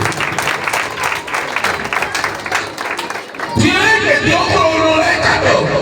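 A church congregation at Sunday Mass bursts into loud cheering, whooping and clapping, a crowd roar that swells after a preacher's speech and holds to the end.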